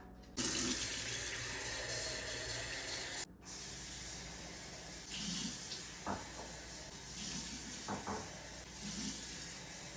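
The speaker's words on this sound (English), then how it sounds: "I'm actually gonna fill them halfway with water and put them inside the canner" A kitchen faucet runs steadily into canning jars, filling them halfway with water for an electric canner, producing a continuous hissing splash with brief shifts in pitch and a short pause as a jar is swapped.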